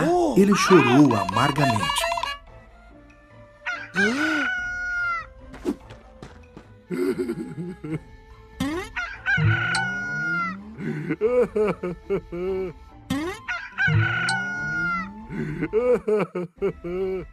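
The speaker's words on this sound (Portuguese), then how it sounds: "Quando ouviu o galo cantar," A rooster crows near the start with a loud, wavering call, as in the Bible story of Peter's denial. Afterward a narrator speaks in Portuguese over soft background music.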